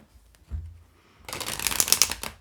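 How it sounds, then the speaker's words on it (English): Tarot cards are shuffled close up: a few soft taps, then a fast, crisp riffling flutter lasting about a second. "let's see what's going on in the pre-shuffle here"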